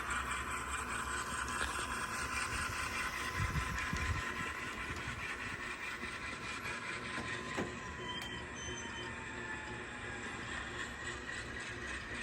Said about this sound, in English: It's got that delay while it does the sounds, the locomotive startup.